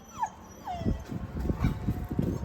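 A puppy cries with high, thin whimpers and wails, a couple of rising squeals followed by repeated whining bursts, close and fairly loud, with no talk over it.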